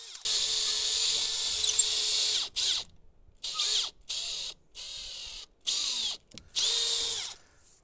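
A power drill drilling through wood whines at high speed in several bursts: one long run, then a series of short stop-start pulses, loud and close.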